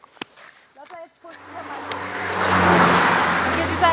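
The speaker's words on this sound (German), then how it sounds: "hier rasen halt auch die Autos vorbei" Cars and a truck speed past on a rural country road at the equator in Gabon, a vehicle roar swelling loudly and close after some brief talk, its engine hum and tire noise sustained to the end.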